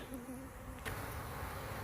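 Honeybees flying around a hive make a faint, continuous buzzing drone over a brief moment, with no voices.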